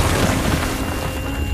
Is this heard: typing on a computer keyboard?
no